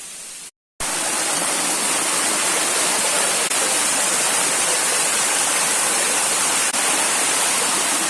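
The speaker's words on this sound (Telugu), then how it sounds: "మంచి వాటర్ ఫాల్ని అయితే ఇప్పుడు నేను మీకు చూపించబోతున్నాను" A waterfall pours among forested hills in a loud, constant roar of churning water, heard up close. It breaks off for a split second near the start and then resumes at full strength, with no one speaking.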